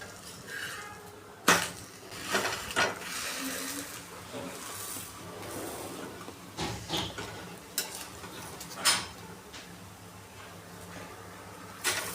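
Chilla, a thin gram-flour pancake, roasting on a hot iron griddle after being flipped, giving a soft continuous sizzle broken by scraping and tapping of a spatula, fairly quiet and close, with no talking.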